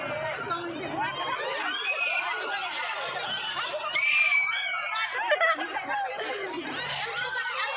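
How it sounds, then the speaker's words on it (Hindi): A dense crowd shouting and screaming at the Vedvyas Mela fair in Rourkela: many overlapping voices, shrieks and laughter, loud and continuous throughout, with nearby people chattering. "कितना चिल्ला रहे हैं"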